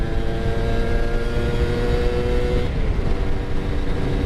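A Yamaha F1ZR two-stroke motorcycle engine revs hard and up close, giving a loud, raspy, buzzing drone that holds steady and then dips slightly, with no talking.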